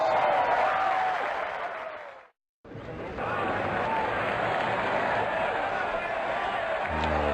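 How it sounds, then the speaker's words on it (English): Golf patrons applaud at the 15th green at Augusta in Links 2015, a broad crowd clapping that swells, drops out briefly, then resumes with scattered cheers at a moderate distance. "Applause from patrons at 15."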